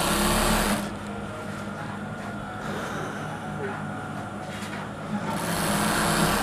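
A sewing machine runs steadily while stitching the top and bottom fabric of a palazzo, a continuous close mechanical whir that eases off midway and picks up again toward the end.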